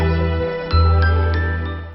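A phone rings at a birthday gathering with a loud, bright, sustained electronic jingle of repeating tinkling tones over a steady low hum, close and with no voices over it.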